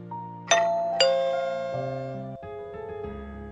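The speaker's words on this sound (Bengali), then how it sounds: "ঠিক 3টে কলিং বেল অনুপমের উপস্থিতি জানান দিল" A two-tone electronic ding-dong doorbell chime rings indoors, two bright strikes followed by a long, sustained melodic tail that slowly fades with no voices.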